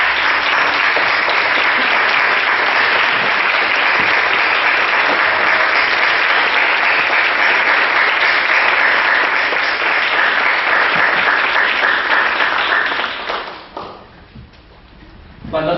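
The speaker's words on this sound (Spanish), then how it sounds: "Les pido un fuerte aplauso." Loud, sustained applause from a large forum audience honoring a guest, dense steady clapping lasting over ten seconds before tapering off into scattered claps near the end.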